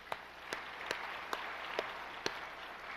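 A church congregation claps in an even rhythm of about six distinct, evenly spaced claps, faint and set against a soft background hiss.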